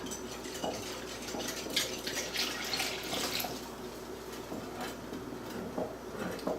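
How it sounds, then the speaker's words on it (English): 7-Up soda and cold water are poured into a bowl of dissolved lemon jello, making a soft, continuous splashing and fizzing that swells in small waves. The pour is fairly quiet and close, with no talk over it. "Let's go ahead and add our cold water and our 7-Up."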